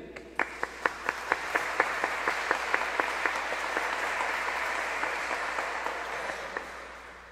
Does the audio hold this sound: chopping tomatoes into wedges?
no